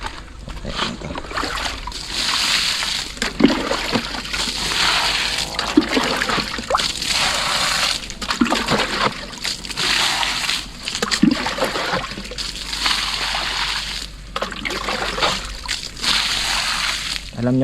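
Water splashes and sloshes onto parched, cracked soil while coconut and papaya plants are being watered outdoors, a steady wet spattering in repeated bursts with a person speaking over it.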